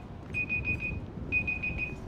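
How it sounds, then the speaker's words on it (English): Timer alarm in Grand Theft Auto V with the LSPDFR mod, two short bursts of rapid, bright electronic beeping, each about a second long, over a low rumbling in-game background. "It's our timer."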